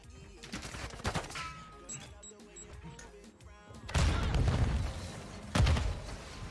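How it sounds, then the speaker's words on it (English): Grenade explosion and gunfire in a Modern Warfare 2 ranked match: scattered bursts of shots and clatter, then two heavy booming blasts near the end, loud and close. "What a nade, huh?"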